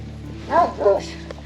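Small dogs yip and bark in two short bursts, close by on a Carpathian mountain path, over a low steady background hum.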